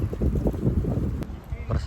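Strong wind buffets the microphone on a slippery, misty trail on Mount Andong, a steady low roar with gusty rumbling throughout.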